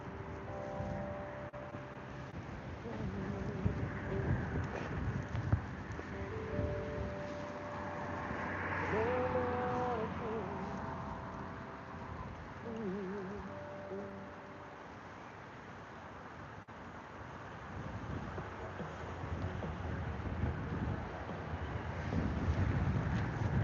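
Wind buffeting a microphone outdoors at a street protest in Dublin, a rumbling low gusty roar that rises and falls over about twenty seconds, with faint background sounds mixed in.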